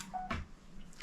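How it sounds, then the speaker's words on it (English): A phone gives a short, faint electronic beep in a quiet room, a brief tone followed by a soft click and tiny chirps, with no talking. "And that's my phone beeping at me."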